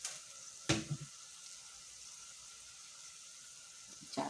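Whole cumin and cloves sizzle in hot oil for an aloo matar keema, a faint steady hiss with a couple of brief clinks of spices dropping into the pan.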